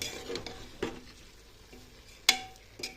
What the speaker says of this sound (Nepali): यसरी सबै चामल एड गरिसकेपछि यसलाई यसरी चलाउनु पर्ने हुन्छ